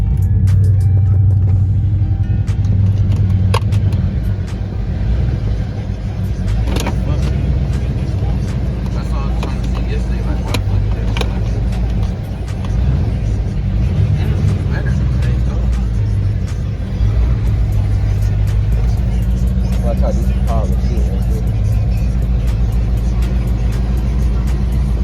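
A rebuilt Dodge Charger R/T with a 5.7 Hemi engine rumbles steadily as it is driven, a deep, loud, continuous engine drone with faint clicks.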